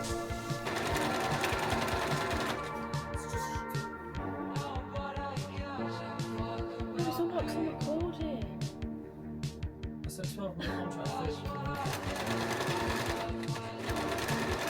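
A sewing machine stitches fabric ruffles, running in steady bursts of rapid mechanical whirring with short stops between, close and fairly quiet, with a voice talking faintly over parts of it.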